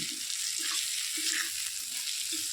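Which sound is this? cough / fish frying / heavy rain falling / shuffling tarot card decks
fish frying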